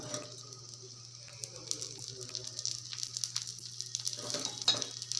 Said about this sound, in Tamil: அப்படியே மேலே இந்த எண்ணெய் விட்டுக்கோங்க